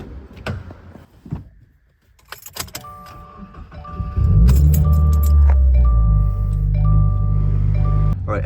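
A car starts and idles while warming up before a gym trip, a low steady engine rumble rising at mid-clip after keys and door clatter, with faint steady tones above it.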